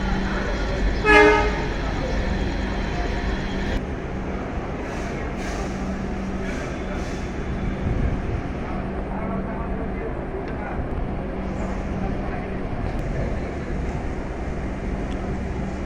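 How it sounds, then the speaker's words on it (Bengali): An intercity express train departs Joydebpur station in Bangladesh, with a short loud horn toot near the start over steady station rumble and crowd noise, followed by faint further tones and murmuring voices. "আন্তর্নগর এক্সপ্রেস ট্রেনটি এখনই স্টেশন থেকে ছেড়ে যাবে"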